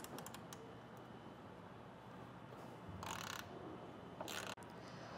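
T30 torque bit wrench turning out bolts on a vehicle's roof trim during a roof rack crossbar installation, with close ratcheting clicks and short mechanical bursts over quiet background.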